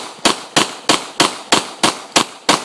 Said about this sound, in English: I am going to shoot them real fast.